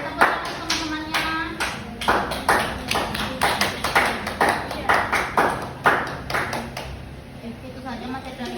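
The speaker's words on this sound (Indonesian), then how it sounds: "Tepuk tangan teman-temannya." Schoolchildren clap their hands in a classroom in quick, rhythmic bursts for close to eight seconds. The claps are loud and near, and children's voices mix in with them.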